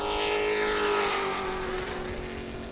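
A race car engine roars at full power during qualifying at New Smyrna, loud and close, its pitch sliding downward as it passes and fades slightly, with no voices over it.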